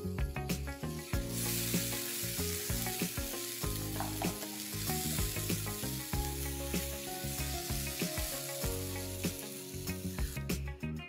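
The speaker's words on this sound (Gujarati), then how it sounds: "આ જે પેસ્ટ છે એ સરસ કુક થઈ ગઈ છે, અને તું જોઈ શકે છે તેલ પણ સરસ રીતે આજુબાજુમાંથી છૂટું પડી રહ્યું છે" Pea paste for matar nimona fries in oil, giving a continuous close sizzle with frequent stirring scrapes and crackles throughout.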